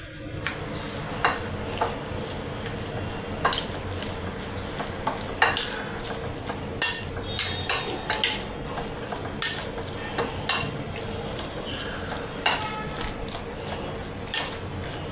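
Avocado salad being tossed and mixed with lemon juice in a bowl, with soft wet squishing and clinking spoon taps recurring irregularly, close and moderately quiet, no talk.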